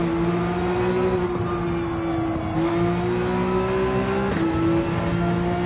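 A race car engine in Gran Turismo 7 holds a steady, loud droning whine that climbs gradually in pitch as it accelerates, with brief dips at gear shifts and no talk.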